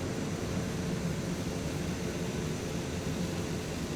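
A TBM turboprop lands in Microsoft Flight Simulator, its engine a steady, dense droning roar with a whooshing wash that holds at an even loudness throughout, with no voices.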